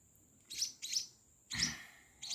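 Tiny one-week-old munia or sparrow chick chirping: four short bursts of thin, high-pitched cheeping spaced about half a second apart, close and fairly loud against a quiet background.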